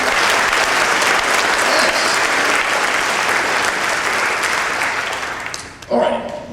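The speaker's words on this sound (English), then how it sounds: "let's give everyone a round of applause for just being a part of" An audience at a fall band concert breaks into loud, sustained applause that fills the room, then tapers off toward the end, where a voice briefly comes in.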